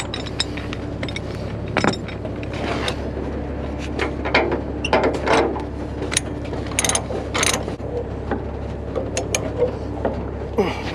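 Ratchet chain binders on a lowboy trailer being cranked to secure an excavator, giving repeated metallic clicking and clinking ratchet strokes in uneven bursts over a steady low background hum.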